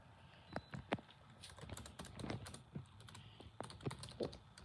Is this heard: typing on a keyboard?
yes